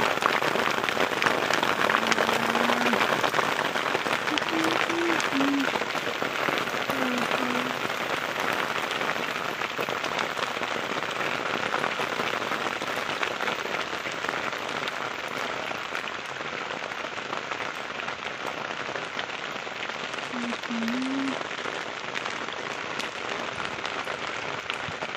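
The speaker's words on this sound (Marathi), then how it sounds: "एवढं लावायचं झालं, लगेच पाऊस चालू झाला." Steady rain pattering on an open field during onion planting, a continuous even hiss lasting throughout with no voices, a few faint low tonal calls briefly rising above it.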